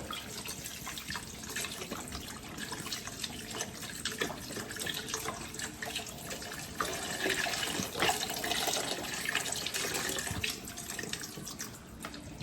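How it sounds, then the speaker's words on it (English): Water poured steadily into a cooking pot in a home kitchen, a continuous splashing, gurgling stream heard close and alone for about twelve seconds, swelling slightly louder partway through. "now I'm gonna add the water"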